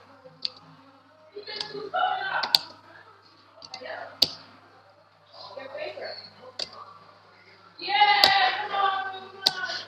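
Laptop keys, Fn and F12, are pressed while setting up a Mac OS Catalina virtual machine in VirtualBox, giving several sharp, scattered clicks under nearby talking.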